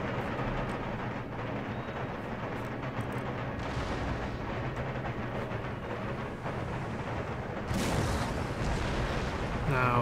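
Continuous rumbling volleys of canister shot artillery fire in the Empire Total War siege of Charleston, a dense, booming roar with a louder burst near the end.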